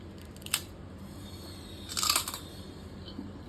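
Crunchy fried sago vadiyalu bitten at close range, two distinct crisp crunches separated by a pause over a steady background hiss, no talking.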